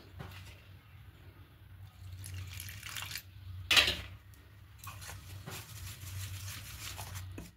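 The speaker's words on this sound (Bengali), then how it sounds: "এবার অল্প অল্প জল দিয়ে একটা পাতলা মতো ব্যাটার তৈরি করে নেব" Water added little by little to a bowl of batter while making thin batter for bread toast: soft, quiet trickles and splashes with a brief sharp clink midway, close by in a quiet kitchen.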